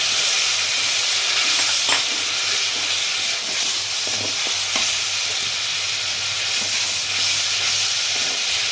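Onion and garlic paste frying in a pan of oil for pointed gourd korma, a loud, steady sizzling hiss that runs without a break, with faint stirring scrapes underneath.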